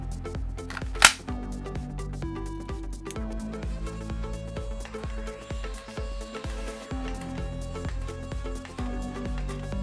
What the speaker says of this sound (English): Now I'll show you the blaster firing.